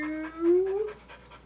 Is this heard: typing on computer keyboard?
no